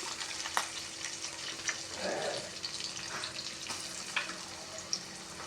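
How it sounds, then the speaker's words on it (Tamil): Soft, steady sizzling of onions frying in oil, with a few light clinks and stirring sounds, close and fairly quiet. "இப்போ நம்ம வெங்காயம் அதெல்லாம் தாளிக்க போடணும் வெங்காயம் போட்டுக்கணும்"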